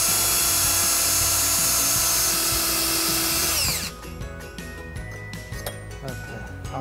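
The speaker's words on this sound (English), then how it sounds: "just drill a couple of holes in the bottom of the bumper." A loud, close power drill drills holes into the bottom of a 2011 Jeep Liberty bumper, running steadily for several seconds, its high whine bogging down, then stops and leaves quieter clattering and handling noises.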